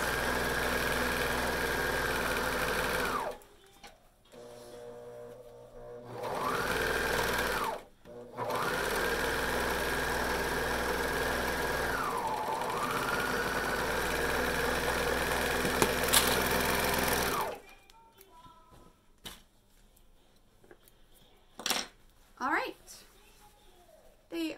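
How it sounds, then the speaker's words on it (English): Sewing machine stitching the leg seams of palazzo-style pants with a half-inch seam allowance. Loud, steady close whirring runs in three long bursts with brief pauses between them, then stops, leaving a few soft handling clicks and rustles. "now we get to sew our legs with a 1/2 inch seam allowance"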